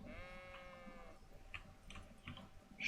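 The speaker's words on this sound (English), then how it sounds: "Sheep." A sheep bleats in the medieval game Kingdom Come Deliverance, one drawn-out wavering call near the start, followed by soft ambient clicks and faint background sounds.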